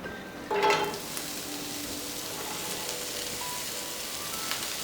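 Chopped onion dropped into olive oil in a frying pan over medium heat, with a brief loud burst of sizzle on contact that settles into a steady, even crackling fry with light stirring.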